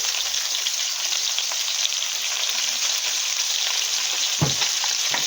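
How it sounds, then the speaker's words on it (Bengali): Sliced green bananas fry in hot oil in a pan with a loud, steady sizzle and crackle throughout, plus a soft clunk of stirring near the end. "এখানে আমি ওই তেলেই কলাগুলোকে ভালো করে ভেজে নেব"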